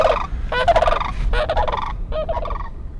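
Cranes call in a series of loud, rattling, warbling trumpeting bursts, four rolling croaks with short gaps between them, close and harsh over a low background rumble.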